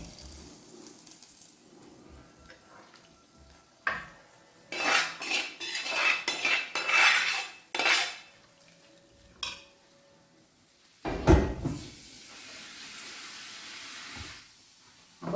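A metal utensil stirs and scrapes food in a pot, with a few sparse clinks early, then a dense burst of scraping and clattering in the middle and another short clatter later, close and fairly loud with no talking.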